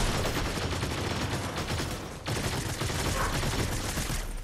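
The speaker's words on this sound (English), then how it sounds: "217 damage shotgun shots." Shotgun fire in the battle royale game Fortnite, a loud, dense run of rapid blasts mixed with other gunfire in a chaotic fight, with a brief dip just past the midpoint and no speech.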